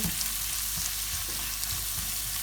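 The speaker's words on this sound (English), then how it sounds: "we're gonna let the spices cook slightly" Ground spices, including ground coriander, fry in a pan at the start of an eggplant curry, giving a steady, close, even sizzle that runs unbroken throughout with no voices.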